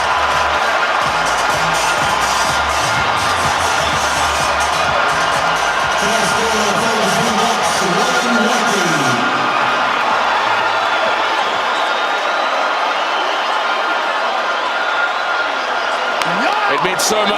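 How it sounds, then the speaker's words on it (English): Big stadium crowd roars at a South Africa versus Argentina rugby test after a Springbok try, a dense, loud, sustained wall of cheering that swells and then settles, with a commentator's voice over it. "The roar"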